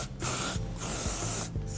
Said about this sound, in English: Spray your section from pretty far away.